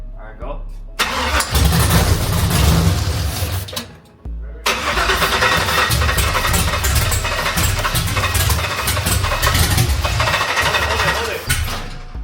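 An LQ9 V8 engine fires up for the first time after an engine swap: a loud cranking start that catches into a rough, steady idle and keeps running close by, with people talking over it.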